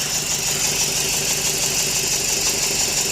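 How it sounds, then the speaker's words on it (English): A Scion xB engine idling rough while misfiring and running on only two cylinders, with a bad spark plug and coil; a steady, close, uneven mechanical drone continues without a break and without talk. "It starts, but it's really rough because right now it's running on only 2 cylinders."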